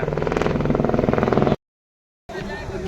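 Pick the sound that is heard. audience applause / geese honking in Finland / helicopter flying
helicopter flying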